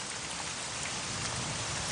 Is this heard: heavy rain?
yes